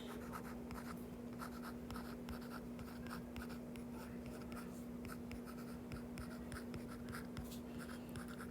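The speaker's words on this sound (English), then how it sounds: "So I'm going to write that first." The number 231 is written out by hand, a steady, close scratching of a writing tool across a surface that continues throughout at a low level.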